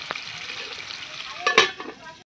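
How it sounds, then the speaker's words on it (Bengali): Potatoes frying in a covered pan with salt, a steady soft sizzle running throughout and a brief louder burst of crackling and stirring near the end before it cuts off. "এই যে আমার কিন্তু আলু লাল লাল করে ভাজা হয়ে গেছে।"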